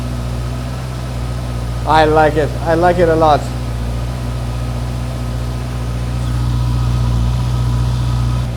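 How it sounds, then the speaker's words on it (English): A 2019 Honda CB650R inline-four motorcycle engine idles steadily up close with a smooth, even hum, while someone speaks briefly over it. "Listen to this inline 4 engine coming to life"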